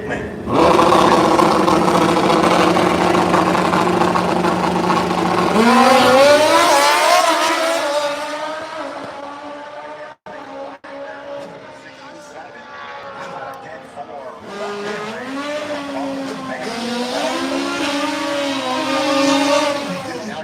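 Drag racing engines at Bradenton Motorsports Park, among them a 2015 Suzuki motorcycle: loud sustained engine roar and rising revving whine, dropping briefly then climbing again, with an announcer talking over a loudspeaker.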